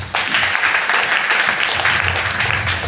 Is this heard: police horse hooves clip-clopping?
no